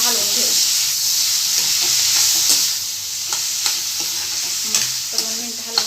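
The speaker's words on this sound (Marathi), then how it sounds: "आता आपण ह्यामध्ये बटाटा घालून घ्यायचा. बटाटा पण 2 मिनिटं चांगला हलवून घ्यायचा." Potatoes stirred and fried in a pan with softened tomatoes, a loud close sizzle with repeated spatula scrapes and clinks against the pan.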